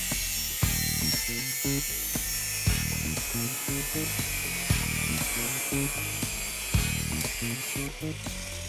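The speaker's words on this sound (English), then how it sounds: "Just looking at the efficiency of the wheel going through the square tube." A thin cut-off wheel grinds through square steel box-section tube, a loud, high, steady whine layered with rhythmic repeating chatter and periodic sharp bites as the cut progresses, with no talk.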